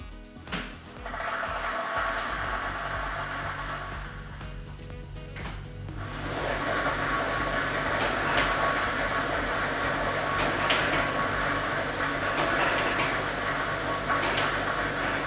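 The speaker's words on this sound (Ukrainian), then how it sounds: "І ми вмикаємо лототрон" A state lottery drawing machine runs, blowing and tumbling numbered balls: a mechanical start-up gives way to a steady loud whirring roar, with scattered clacks of balls knocking together and no voices.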